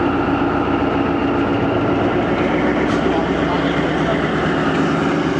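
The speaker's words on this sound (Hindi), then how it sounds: "47 अप रहमान बाबा एक्सप्रेस कराची से पेशावर बरास्ता फैसलाबाद चलने वाली ट्रेन" The 47 Up Rahman Baba Express, running from Karachi to Peshawar via Faisalabad with locomotive ZCU-206403, gives a loud, continuous rumbling roar of a passing train, heard close and steady throughout, with no clear voices.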